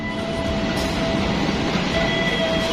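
Steady, loud rumble of the Singasari train arriving along the tracks, with a faint high whine and continuous rail noise.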